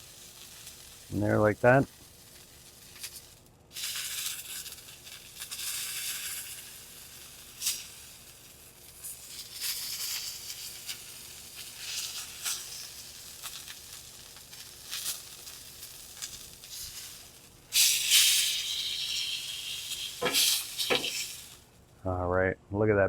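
Steak fat cap searing on a hot Masterbuilt griddle, a steady close sizzle and hiss that swells louder near the end, with a voice speaking briefly at the start and finish.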